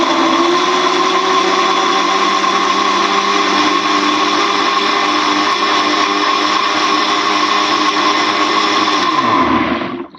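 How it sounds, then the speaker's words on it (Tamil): A kitchen blender grinds muskmelon into juice, making a loud, close and steady high-speed roar. The roar holds for about ten seconds and then cuts off abruptly as the motor stops. "இப்போ நம்ம கர்பூஜா ஜூஸு இப்போ நம்ம அரைச்சிக்கிறோங்க"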